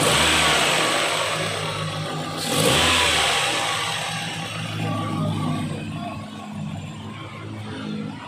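A motorcycle engine runs close by at low RPM with fresh spark plugs and new plug cable, revving unevenly and sputtering on start, its rough mid-pitched drone swelling and falling without voices.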